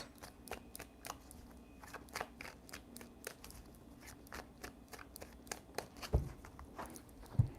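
Tarot cards shuffled by hand in a steady run of quick, crisp riffling snaps, moderately close, with a couple of louder knocks near the end and no talking.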